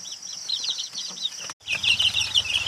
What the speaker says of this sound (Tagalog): ito nga pala yung ina namin na Black Dragon